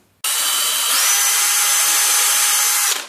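A power drill bores steadily into a wood board, one continuous high whining grind that starts abruptly and stops after about three seconds, close and loud.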